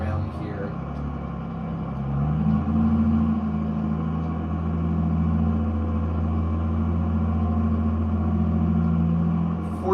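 An old-school 1960s road roller in a farming video game, its engine droning low and steady at a crawling 9 miles an hour, with a constant rumble throughout and no break.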